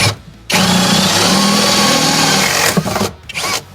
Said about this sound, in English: So I'm gonna drill a big old hole right below here.